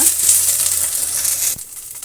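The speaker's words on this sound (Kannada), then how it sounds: "ಕರಿಬೇವಿನ ಸೊಪ್ಪು ಅಷ್ಟು ತನಕ ಫ್ರೈ ಮಾಡ್ಕೊಳ್ಳೋಣ" Curry leaves fry in hot oil with a bright, loud, continuous sizzle and crackle that drops away sharply near the end, and no voices are heard.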